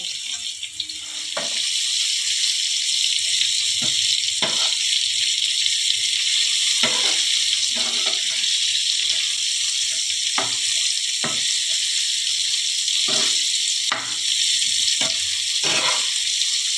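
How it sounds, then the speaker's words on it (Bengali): Paneer pieces fry lightly in a pan with a steady, close sizzling hiss, broken by occasional sharp crackles and pops from stirring throughout. "হালকা করে একটু ভেজে নিতে হবে"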